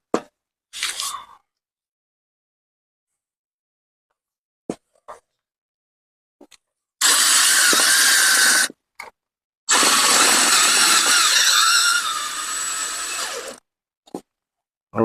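A drill driver tightens solar panel mount fasteners in two loud, close bursts of a couple of seconds each, the second trailing off as it seats, with scattered clicks and handling noises in the quiet gaps.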